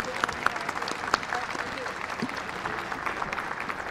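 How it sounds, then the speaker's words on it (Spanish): Applause from a conference audience after a talk on risk management and climate change, with sustained, fairly even clapping and a few sharper claps standing out, while voices murmur and talk over it. "Un aplauso, por favor."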